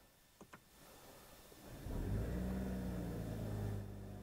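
A BMW M440i Gran Coupé engine in Sport Plus mode rises into a loud, sustained rev after two brief clicks, holding a steady droning growl that eases slightly near the end.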